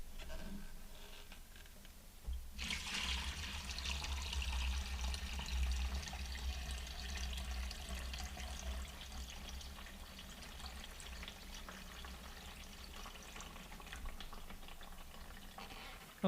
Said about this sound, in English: So now I'll carefully pour it in here.